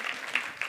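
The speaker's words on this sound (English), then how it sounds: "And clap it up for that" Audience in a marketing talk room clapping, a brief, fairly soft burst of applause with a couple of sharper claps standing out.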